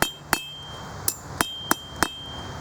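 A hammer strikes a blacksmith's metal bracelet to straighten it, six sharp ringing blows at an uneven pace, close and clear over a steady background hum.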